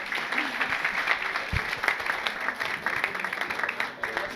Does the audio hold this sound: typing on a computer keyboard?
no